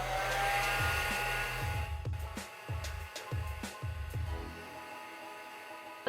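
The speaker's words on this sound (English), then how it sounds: "I'll take my blow dryer for about 10 to 15 seconds and just hold it on the spray itself." A blow dryer runs loud and steady for several seconds, held over spray on a lace front wig, its whoosh briefly dipping and pulsing as it is moved before settling into a softer continuous blow.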